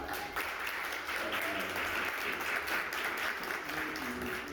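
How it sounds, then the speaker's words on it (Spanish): Audience applause at a rock music award ceremony in Medellín, sustained dense clapping filling the room for several seconds at moderate volume. "Un aplauso para"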